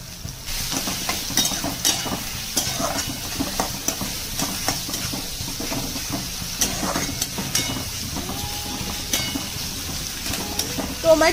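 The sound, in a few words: chopped tomato frying with onion, stirred in a pan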